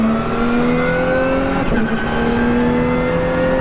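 A Lotus race car engine, 360 brake horsepower in a go-kart-sized car, holds a high, steady roar as it accelerates on a track, its pitch climbing smoothly, loud and close throughout.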